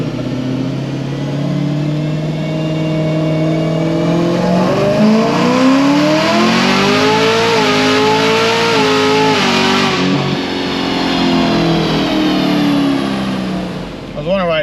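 A Camaro ZL1 with an LT4 engine revs hard and climbs through the gears, each rising pitch sweep broken by a shift. The engine is loud and close throughout, with speech heard faintly at times.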